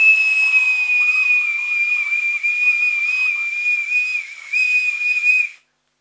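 A toy wind instrument with finger holes from a children's toy music set, played as a sustained, shrill whistling tone that shifts pitch slightly, then cuts off abruptly at the end.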